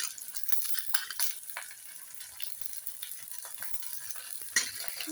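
Green peas tossed into frying onions in a hot wok, a soft continuous sizzle with light scraping and stirring clatter, fairly quiet and steady.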